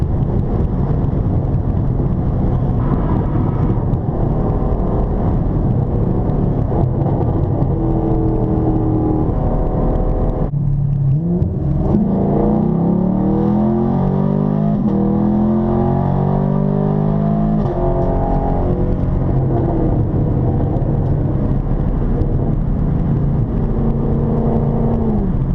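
A car accelerates through city streets at night, its engine revving up through rising tones with a whirring drivetrain, steady and close from inside the cabin.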